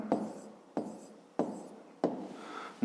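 A pen writing on paper in four short bursts of close scratchy strokes, each separated by a brief pause, with no talking.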